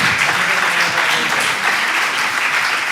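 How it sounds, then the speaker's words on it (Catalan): A crowd applauds a guest at a live Catalan event, giving a loud, dense, unbroken wash of clapping for about three seconds with no speech over it. "Doncs un aplaudiment per a ell"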